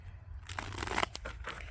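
Tarot cards shuffled by hand, giving a run of brisk, close papery riffles and flutters over a low steady background hum, with no one speaking.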